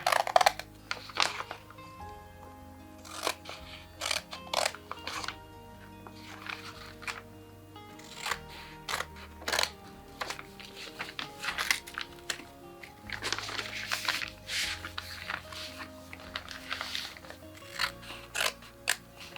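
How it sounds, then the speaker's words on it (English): Scissors cut through paper for a handmade junk journal, a long series of close, crisp snips and crunches in an irregular rhythm, with brief quiet pauses between cuts. "I think I'm just gonna cut that with scissors"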